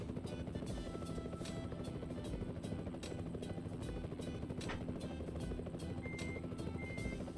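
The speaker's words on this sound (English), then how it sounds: "Is that a helicopter?" A helicopter in Euro Truck Simulator 2, heard as a steady, loud, continuous rotor chop with regular blade pulses for the whole stretch, with no talk over it.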